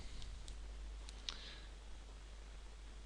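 A few faint, sharp mouse clicks on a Windows 7 computer, spaced apart over a low steady hum, with no talking.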